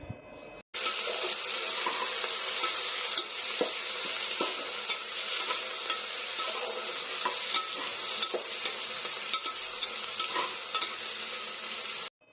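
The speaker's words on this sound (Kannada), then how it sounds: "ಇವಾಗ ಅದನ್ನು ಸೇರಿಸ್ಕೊಂಡು ಚೆನ್ನಾಗಿ ಫ್ರೈ ಮಾಡ್ಕೋತೀನಿ." Chopped tomato frying for egg biryani, giving a steady broadband sizzle with scattered scrapes and clicks of stirring, close and continuous for about eleven seconds after a brief quiet start.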